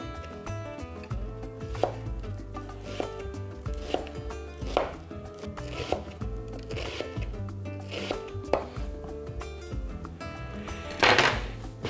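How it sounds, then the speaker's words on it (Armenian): A knife chops a white onion into half rings on a cutting board. About a dozen close, crisp strokes fall at an uneven pace. A louder rustle follows near the end. Nobody speaks. "Վերցրել եմ 1 գլուխ սպիտակ սոխ, կկտրատեմ այն կիսա օղակների"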